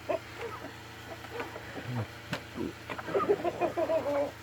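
Backyard chickens, a flock that includes a few young roosters, cluck softly nearby in short scattered bursts, growing busier toward the end, with a person speaking gently among them.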